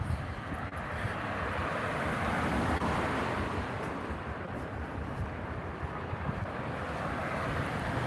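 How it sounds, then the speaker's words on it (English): Steady wind buffets the microphone outdoors at sunset in Los Angeles, a continuous loud broadband roar with low rumbling gusts and no clear pauses. "Oh, it's windy."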